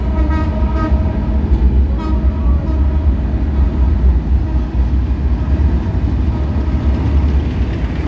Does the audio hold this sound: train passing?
yes